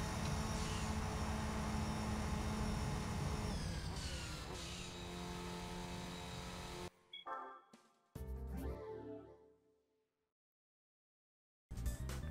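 A race car engine at full throttle in the Gran Turismo 3 arcade time trial drones loudly and steadily with a shifting pitch, then breaks into short revving bursts before cutting to silence and briefly returning.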